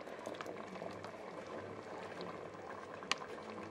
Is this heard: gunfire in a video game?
no